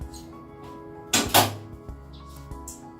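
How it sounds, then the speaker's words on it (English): Doors on an old project car in a garage are swung open and shut, a couple of close, distinct metallic thunks and clunks against a quiet background. "The doors open and close."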